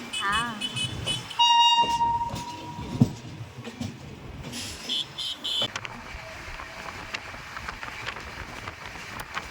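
A passenger train to Junagadh rumbles and clatters steadily at a station, with a sustained horn tone early on and people talking in the background.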